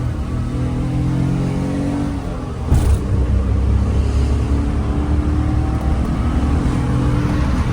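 A Daihatsu Move, a small stick-shift turbo car, is downshifted to second gear and driven on. The engine hums with a steady low drone and harmonic whine, and a brief bump is followed by a slightly louder, steady pull.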